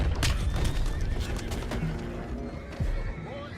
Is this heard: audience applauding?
no